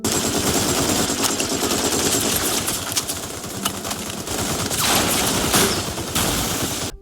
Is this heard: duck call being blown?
no